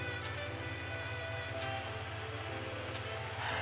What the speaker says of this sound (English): it is trying to rain outside.